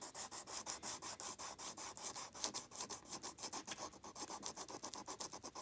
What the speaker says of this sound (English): try not to sand at it